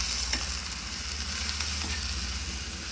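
Garlic, coriander and flour masala roasting in a pan for a mutton thali, giving a steady close sizzle and fry with light stirring scrapes throughout and no voices.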